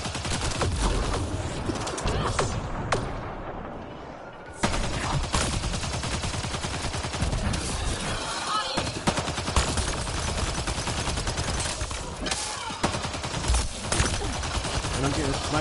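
Gunfire from an alien shooter game on insanity mode, with sniper shots aimed at the player: dense, continuous bursts and sharp cracks fill the scene at close range, briefly dropping out once before resuming.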